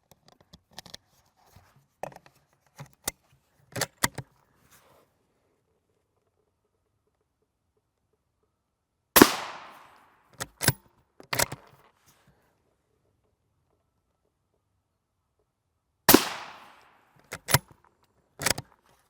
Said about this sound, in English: we're going to walk these right in a line. Two more rounds of